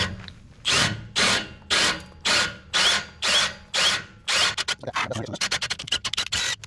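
A power drill fitted with a 5/8 inch bit bores through trailer metal in a run of loud, evenly spaced grinding bursts, each about half a second long, which then break into quicker, choppier pulses near the end. No voices are present.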